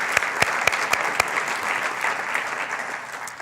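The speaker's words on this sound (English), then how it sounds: "How about a round of applause for all those fabulous women sports journalists?" A lecture audience breaks into a round of applause for women sports journalists: dense, steady clapping with a few sharp, distinct claps standing out near the start, sustained for several seconds at moderate loudness.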